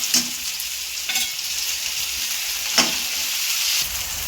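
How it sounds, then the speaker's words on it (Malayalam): Chopped tomatoes frying in a pan for chutney, a steady close sizzle with a few scraping stirs of a spoon, heard alone. "ഇതിലോട്ട് നമ്മൾ അരിഞ്ഞ് വെച്ചിരിക്കുന്ന തക്കാളിയും ഇട്ട് കൊടുക്കാം"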